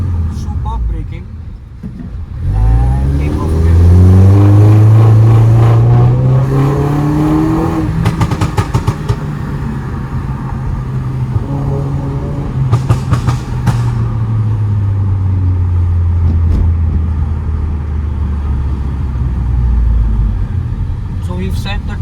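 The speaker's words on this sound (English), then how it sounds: "So as soon as the car reaches 4000, it pops." A stage 1 tuned 2011-style Mini Cooper S Countryman R60 with a turbocharged 1.6 engine revs loudly and holds high rpm, its sustained engine drone broken by scattered sharp exhaust pops from a pop limiter, heard close up.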